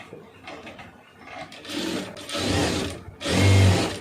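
A sewing machine stitches fabric scraps together into a door mat, running in short bursts that grow louder and steadier toward the end, close and clear with no talking.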